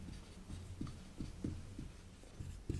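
Pen or chalk strokes of handwriting in a Class 10 science lesson on resistor combinations, a run of soft scratchy taps and short strokes in a steady rhythm, faint and close, with a low hum underneath and no speech.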